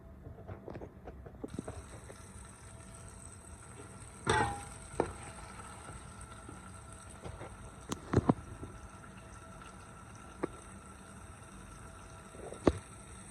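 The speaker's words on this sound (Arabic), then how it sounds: "راح ابدي احمس" Fish seasoned with salt and black pepper frying in a pan, a soft steady hiss of oil with a few sharp clinks and taps of utensils, fairly quiet and without speech.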